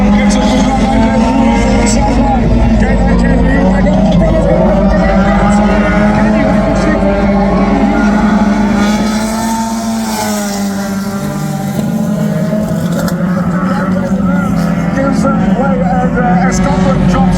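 1600 saloon race cars pulling away together from a standing start, a loud sustained multi-engine roar with shifting revving tones, under a commentator's continuous talk.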